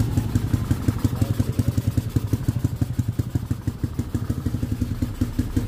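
A Yamaha Mio 4-valve motorcycle engine, fitted with a carburetor, idles and blips close by, a steady rapid pulsing chug with rhythmic loudness swells throughout.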